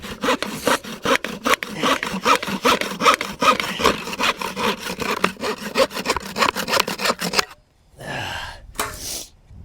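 A hand saw cuts through wood to make a spindle for a friction fire. Quick, steady back-and-forth strokes sound up close, then stop abruptly, followed by a couple of brief scraping rubs.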